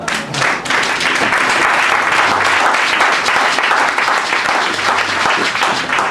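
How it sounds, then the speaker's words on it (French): A church congregation applauds and cheers in praise, dense sustained clapping filling the room loudly and evenly from start to finish, with some voices mixed in. "Est-ce qu'on va acclamer le Seigneur?"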